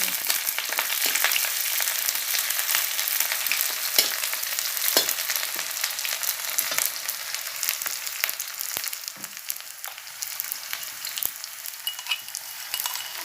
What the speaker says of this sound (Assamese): নৰসিংহ পাত কেইটামান প্ৰথম তাৰপিছতে কুটা পিঁয়াজখিনি দি দিলোঁ